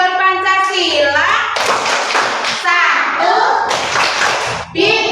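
Children clap in a classroom clapping game about Pancasila symbols, sharp bursts of clapping alternating with young voices chanting and counting along, close and lively.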